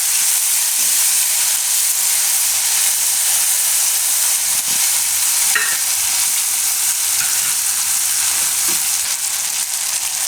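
Tomatoes cook in a pan for a Gujarati green urad dal, giving a steady close-up sizzle and hiss with occasional stirring scrapes, continuous and fairly loud throughout.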